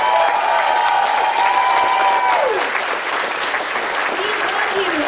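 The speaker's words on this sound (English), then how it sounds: "so give yourselves a round of applause" An audience at a BronyCon 2019 convention panel claps in sustained applause, a dense continuous wash with a tonal voice or instrument line running over it.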